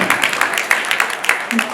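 Listeners at an outdoor poetry recital during a Dussehra fair in Kapasan clap in quick rhythmic bursts, several sharp claps in a row at close range, with a little voice mixed in.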